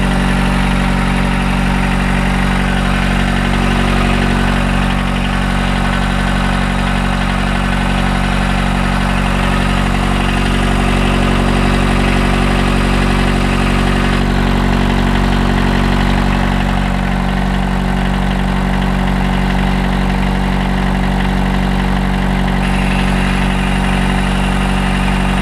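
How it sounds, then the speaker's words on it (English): A Pathfinder 42 four-cylinder diesel engine idles aboard an S2 11.0C sailboat, giving a loud, steady low rumble and hum that stays even and unbroken throughout, with no talking. "As you can see, the engine runs incredibly well."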